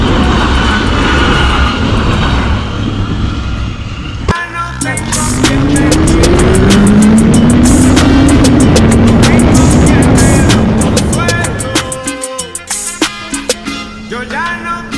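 A CF Moto 675 SR sport motorcycle on a road trip in Switzerland roars loudly with heavy wind rush, its engine tone rising steadily mid-ride before easing and fading into lighter rumbling.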